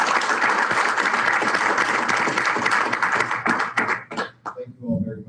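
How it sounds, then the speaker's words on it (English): A club meeting audience gives a round of applause for teachers: dense, steady clapping from many hands that thins out and breaks into a few scattered claps toward the end. "So let's have a round of applause for our teachers."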